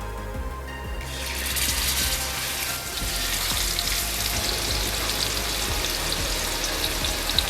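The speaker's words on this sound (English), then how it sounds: "My oil is hot enough. Let's add in the marinated fish steak." A marinated fish steak drops into hot oil in a pan, and after a quiet first second a loud, close, continuous sizzle bursts up and holds steady to the end.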